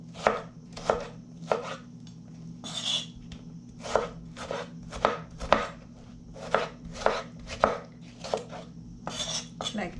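A knife chops food roughly on a cutting board in a home kitchen while making chicken parmesan pasta, a steady run of sharp, close knocks with brief pauses between strokes and no talking.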